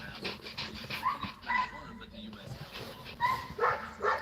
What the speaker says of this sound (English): Oh, I hear a dog.